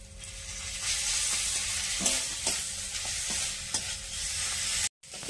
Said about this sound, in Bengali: এবারে আদা রসুন বাটাটা দিয়ে দিচ্ছি।